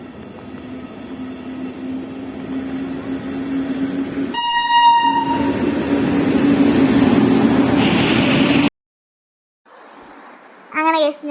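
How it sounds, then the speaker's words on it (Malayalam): A train pulls into a station, a rumbling approach that grows louder with a long blaring horn blast, then a sudden cutoff and another short horn call at the end; voices are audible in the background. "അങ്ങനെ ഞങ്ങളെ ട്രെയിൻ വരുന്നു."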